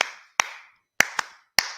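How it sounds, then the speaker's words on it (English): Hands clap in four separate sharp bursts with uneven gaps, each snapping crisply and then ringing out briefly in a live podcast room, with no voices over them. "Clap your hands."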